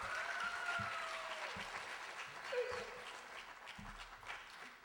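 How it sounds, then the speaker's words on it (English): An audience clapping for Ohana Martial Arts performers at a martial arts film fighting workshop, a thin, fairly distant scattering of claps under a faint hum, with brief voices. "Let's give them a round of applause again."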